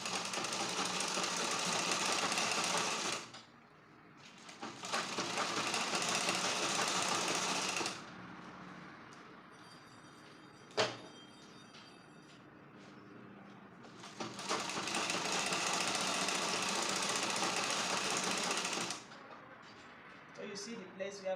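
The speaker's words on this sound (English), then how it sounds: "So let me sew it now." A sewing machine stitching a straight pencil skirt with a waistband hums loudly in three long continuous runs, separated by short pauses with quieter handling noise and one sharp click.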